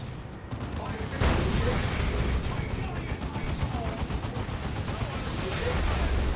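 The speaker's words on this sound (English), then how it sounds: "Frag grenade is thrown on out." A frag grenade goes off in a Dawn of War 2 battle, a loud booming blast layered with dense gunfire and artillery rumble that carry on steadily throughout.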